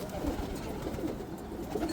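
Soft, low pigeon cooing close by in a domestic pigeon enclosure, a continuous murmuring purr of several birds under light background noise.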